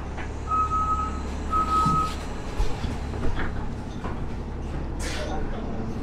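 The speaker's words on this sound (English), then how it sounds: "I think that's our bus." City bus pulling up to a stop near Bluffer's Park, Toronto, with two steady reversing-style beeps over a low engine rumble and a hiss of air brakes, all close by amid street noise.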